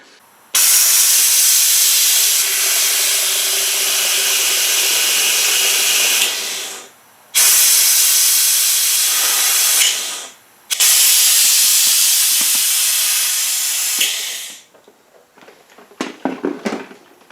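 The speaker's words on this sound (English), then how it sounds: "this, my friends, is a power brake bleeder" Compressed-air power brake bleeder in use during an oil housing and cooler job on a 2013 Jeep Wrangler, giving three long, loud, steady hissing bursts separated by short pauses, then a few brief sputters.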